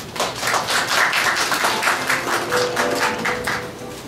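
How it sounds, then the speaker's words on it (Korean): An audience claps in welcome at a Sony camcorder launch event, a dense burst of applause from a crowd that holds steady for about four seconds and then thins out. "큰 박수로 맞이해 주시기 바랍니다."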